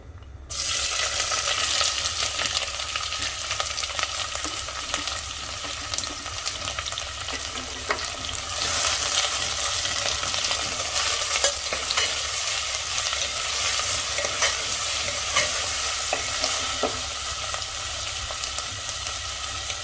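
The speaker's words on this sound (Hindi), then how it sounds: "प्याज को भून लेना है हाई फ्लेम पर" Steady, loud sizzling of four large chopped onions frying on high heat for Sindhi-style mutton, with continuous crackle and occasional stirring, no voices.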